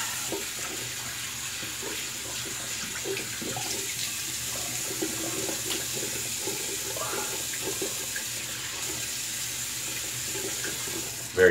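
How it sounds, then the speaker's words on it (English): Cold water runs steadily from a bathroom tap, an even close hiss with slight fluctuations throughout and a brief clatter at the very end. "get a little cold water going"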